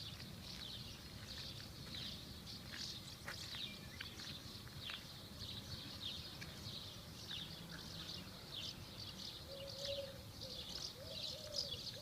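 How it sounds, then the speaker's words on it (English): Birds coo and chirp around a basilica in Transylvania, Romania, soft scattered calls over a faint outdoor hum, with occasional footsteps nearby. "The birds seem to really like it here. There's lots of birds here in Romania."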